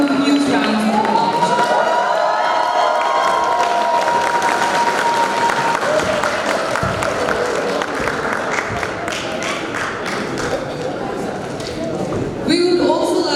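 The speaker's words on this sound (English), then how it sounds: "let's welcome him with a huge round of applause" Large audience at a Rotaract district conference gives a guest a loud, sustained round of applause with some cheering, continuing throughout with a brief burst of voices near the end.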